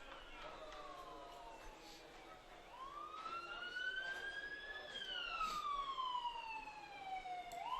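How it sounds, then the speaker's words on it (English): Ambulance sirens wail beside a hospital next to a college baseball field, a rising and falling tone that swells closer and louder through the second half, with a voice talking faintly underneath. "if you hear those ambulances, that's the third one today"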